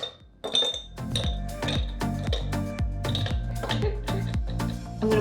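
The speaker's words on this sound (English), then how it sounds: "Oh my god, are these ice cubes too big?" Ice cubes drop into a glass while boba tea is being made, giving a quick run of bright clinks and knocks, fairly close and with no talking.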